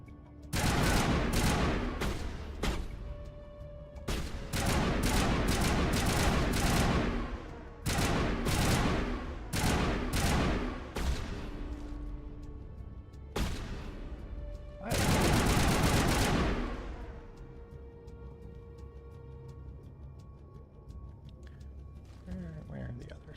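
Rifle fire in the Mass Effect game comes in dense, loud bursts of rapid shots, separated by short pauses, with a voice talking over the shooting.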